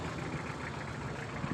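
A car's diesel engine idles loud and steady at close range, a continuous low rumble with no break and no voices over it.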